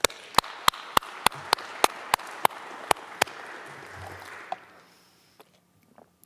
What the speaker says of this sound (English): I'd just like to send out a round of applause to Chris and his family